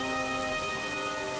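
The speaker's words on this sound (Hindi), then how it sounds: "कमला बारिश में पूरी तरह से भीग चुकी थी, जिसके कारण वह ठंड से कांप रही थी।" Steady rain pours down in a dense, even hiss with no pauses, loud and close, with a faint tonal background underneath and no voices.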